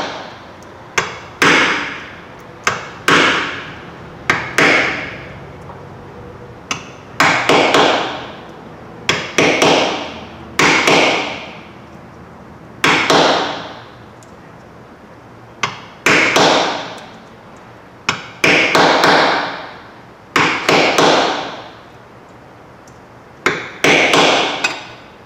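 A hammer drives a chisel to punch through the metal between drilled holes on a gimbal ring, striking sharp ringing metallic blows in small clusters at an irregular pace over about 25 seconds, close and loud, with no talking.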